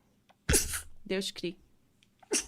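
A single loud, close sneeze bursts out, followed by people talking nearby in Portuguese.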